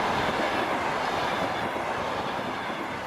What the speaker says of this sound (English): Now the train is rolling through the sparsely vegetated desert of Kızılkum in southern Uzbekistan